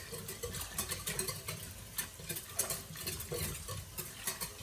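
A whisk stirs soup ingredients with thyme for a copycat Zuppa Toscana, giving a quiet, close, rapid patter of light scraping strokes in a steady rhythm with no voices.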